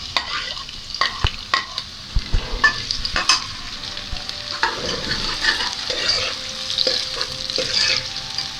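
Chopped onion sizzling in half a cup of hot oil for a bitter gourd chicken curry, with steady close frying crackle and repeated stirring scrapes and clinks of a spoon against the pan, no talking.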